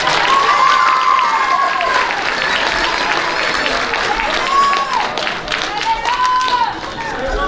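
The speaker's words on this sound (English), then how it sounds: "Let's give our Mule Makers one more round of applause." Banquet audience applauding award winners at a school athletic banquet, a sustained dense clapping that holds steady throughout, with voices and whoops mixed into the crowd noise.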